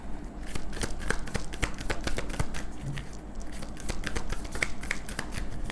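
Tarot cards being shuffled and handled give a dense, continuous run of crisp flicks, slaps and riffling snaps, close and fairly loud with no talking.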